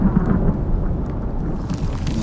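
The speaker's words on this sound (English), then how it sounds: "These thunderstorms. They start forest fires." A thunderstorm in the survival game Icarus rumbles with low, continuous thunder that rolls steadily throughout, loud and close with a dense wash of rain-like noise beneath it.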